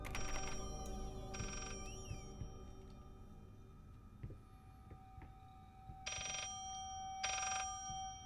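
An in-game telephone ringing in the horror game Layers of Fear, two pairs of electronic ring bursts at the start and end, fairly quiet amid a low ambient hum, with no speech.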